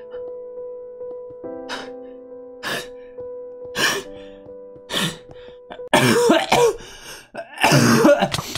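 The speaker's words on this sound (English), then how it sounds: "Sorry, I was coughing." Several harsh coughs in a row, spaced out at first over a faint steady hum, then louder, rougher coughing fits close to the listener.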